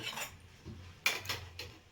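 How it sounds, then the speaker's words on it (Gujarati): A few light metal clinks and scrapes of a spoon against a pan while tempered dhokla is stirred, quiet and close, with short pauses between strokes and no talking. "વઘાર્યા પછી મસ્ત હલાવી દેવાનું એટલે બધું મિક્સ થઈ જાય"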